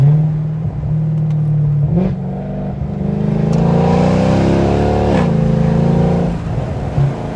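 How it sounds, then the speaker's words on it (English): A 2010 Mercedes C63 AMG engine idles loudly up close, then revs hard several times, rising and falling in pitch before settling back to a rumbling idle. "let me just let you guys hear a little bit of this car real quick"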